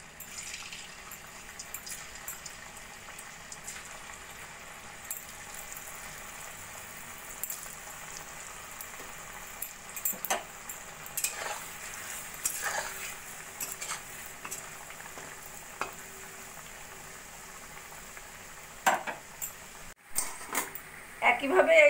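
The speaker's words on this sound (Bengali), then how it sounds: "একইভাবে বাকি চিপসগুলো ভেজে নেব।" Potato chips frying in hot oil give a steady soft sizzle and bubbling, with occasional clinks of a utensil and louder bursts of activity near the end, a voice talking over it.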